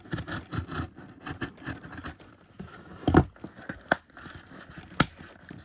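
Parcel packaging for a Bachmann N gauge model railway item being cut open: crinkling, tearing and snipping noises close by, with a few sharper cracks and rips standing out from steady rustling.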